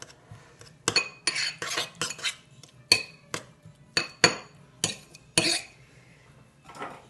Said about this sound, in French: je coupe en petits morceaux